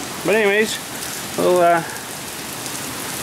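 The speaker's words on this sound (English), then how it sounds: "oh, she's raining now." Rain begins to fall as a storm rolls in over an outdoor cemetery, a steady soft hiss of drops running throughout while someone speaks two short phrases over it.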